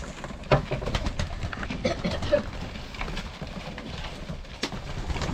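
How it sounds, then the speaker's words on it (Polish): Homing pigeons coo softly nearby amid scattered pecking and shuffling sounds as they feed, with a person speaking intermittently over them. "Gołębie pocztowe."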